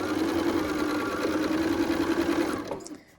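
A sewing machine runs steadily as quilt triangles are chain pieced, a continuous close whirring stitch that carries for about two and a half seconds before stopping abruptly.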